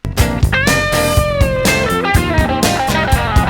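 An electric guitar riff in its original recorded form, played forward: bright, layered notes ring over a steady low rhythmic backing, loud and upfront with no talking.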